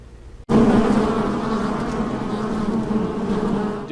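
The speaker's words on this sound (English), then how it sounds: "Near the town of Janesville, Minnesota, bees are all the buzz" Dense, steady buzzing of a honeybee colony in Janesville, Minnesota, a historic hive listed on the National Register of Historic Places, bursting in loud and close after a brief quiet start and droning continuously without talk.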